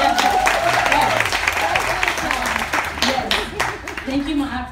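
Audience applause and cheering at a women's gathering during a cruise festival, lively and uneven, with voices and shouts mixed into the clapping.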